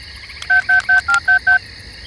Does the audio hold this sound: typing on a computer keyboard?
no